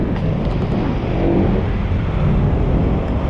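Cars moving along a busy four-lane city road, a steady, loud, close rumble of engines and tires with no pauses or distinct horns.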